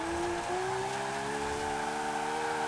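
A rear-wheel-drive drift car in Forza Horizon 4 slides sideways with a sustained, loud tire squeal rising slightly in pitch over a steady engine drone; no talking.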